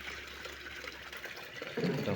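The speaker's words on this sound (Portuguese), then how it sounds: "Eu vou pegando com o baldinho, vou pondo nos baldes" Water from a washing machine is scooped with a small container and poured into buckets, giving a quiet, continuous sloshing and trickling that swells into a louder pour near the end, with no talking.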